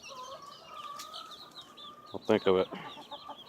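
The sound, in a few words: chickens clucking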